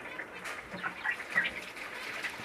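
A pair of seven-month-old baby cockatiels gives soft, scattered chirping calls, a few brief peeps rising over a quiet room background with no talking.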